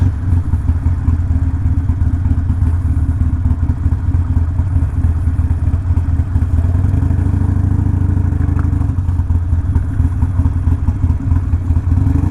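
Harley-Davidson Sportster motorcycles on tour riding up to a hotel, a steady loud engine rumble with clattering mechanical texture that holds throughout, no voices.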